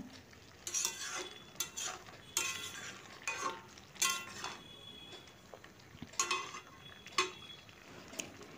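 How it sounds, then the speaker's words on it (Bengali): A potato vegetable curry is stirred and mixed in an iron kadai with a metal spatula, producing irregular clanking scrapes against the pan over a faint low sizzle, close and fairly quiet, with no speech. "এদিকে দেখুন আমার এটা হয়ে গেছে কড়ার তরকারিটা। এটাকে আমি আবারও ভালো করে মিশিয়ে নেব।"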